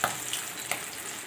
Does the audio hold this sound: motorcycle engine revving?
no